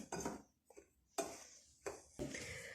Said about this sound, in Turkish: Bunu güzelce karıştırıyorum.